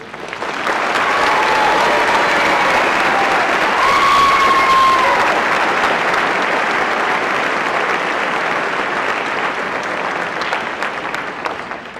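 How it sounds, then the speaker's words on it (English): An audience at a military graduation ceremony applauds the graduates, a loud, dense, sustained wash of clapping that holds steady throughout, with a brief whistle-like cheer partway through and no talking. "Please join me in a round of applause for the graduates"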